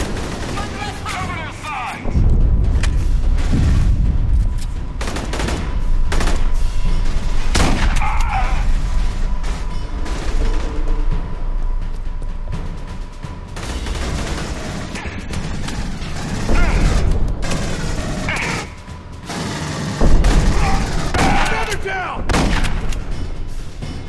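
Sustained gunfire in the video game Aliens: Colonial Marines, with dense bursts of rifle and machine-gun shots and heavy booms, loud and nearly continuous, while voices talk over the combat.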